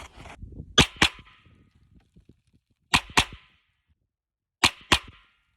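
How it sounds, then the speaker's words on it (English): Three bursts of rapid 9mm carbine fire crack out at an outdoor shooting range, each a pair of sharp, loud reports close together, with quiet pauses between bursts. "I think I'm gonna shoot 1 double and either 1 or 2 triples depending on how the double feels"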